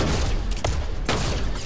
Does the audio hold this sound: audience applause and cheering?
no